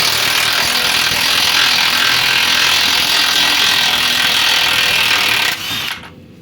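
A power tool whirs steadily and loudly for about five and a half seconds while unscrewing a tie rod end nut on a Skoda Octavia, then cuts off abruptly near the end.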